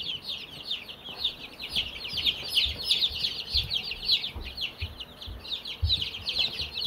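Young Brahma chicks in a brooder give a continuous chorus of high, rapid peeping and chirps, close and fairly loud, with soft rustling underneath.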